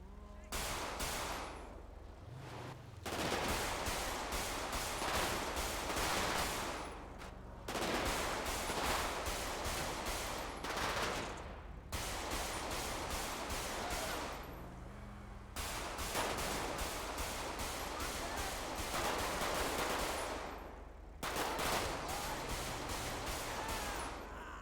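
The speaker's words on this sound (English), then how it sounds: "That's a gun." Gunfire in a role-play video game comes as long, loud bursts of rapid automatic shots, several sustained volleys separated by brief pauses.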